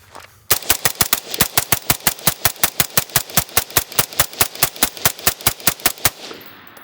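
Semi-automatic fire from an 11.5-inch HUX WRX Flow 556K rifle: about two dozen loud, close shots in a fast, steady rhythm, then a short ringing tail after the last round.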